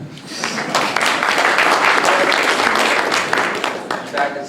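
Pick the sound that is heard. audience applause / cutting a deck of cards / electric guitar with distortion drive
audience applause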